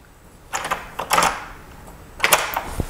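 A door deadbolt is turned by hand to lock it, giving a few close metallic clicks and a scraping slide in two short clusters, with no talking.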